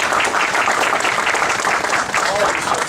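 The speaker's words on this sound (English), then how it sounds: "I give them a hand of applause." An audience at a ribbon-cutting ceremony for a TV news bureau launch claps loudly and continuously, a dense close wash of applause lasting the whole stretch, with voices mixed in.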